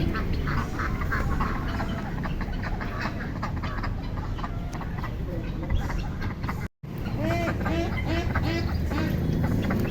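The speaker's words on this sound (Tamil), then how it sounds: "இந்த பெக்கின் வாத்து எவ்வளோ அழகாக இருக்குது பாருங்கள்" Many Pekin ducks quack busily and continuously in a noisy flock on a poultry farm, with a few chicken-like clucks mixed in and a brief dropout near the end.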